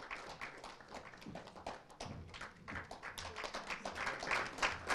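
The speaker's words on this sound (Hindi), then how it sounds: "ऑडियंस तालियां रुकनी नहीं चाहिए" Audience applause at an awards ceremony, a steady wash of many hands clapping that holds for the full stretch, dense and moderately loud with no pauses.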